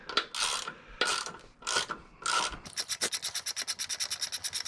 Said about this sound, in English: Just gotta now tighten it with the torque at 50 foot-pounds.